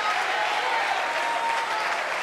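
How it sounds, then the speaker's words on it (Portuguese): Audience applause in a church, a dense, steady wash of many hands clapping together, loud and continuous throughout. "Vamos aplaudir mais ao nome do Senhor"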